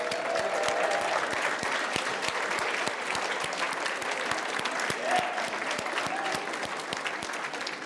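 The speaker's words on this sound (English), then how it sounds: "give yourself a huge round of applause for being here today" An audience at a business academy event claps loudly and steadily for several seconds, a dense wash of hands with a few sharper individual claps standing out near by.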